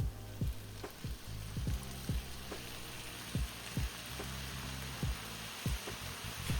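Rehydrated soy balls and seaweed sizzle steadily in a pan as mirin goes in. A spoon knocks against the pan in a regular rhythm over the constant frying hiss.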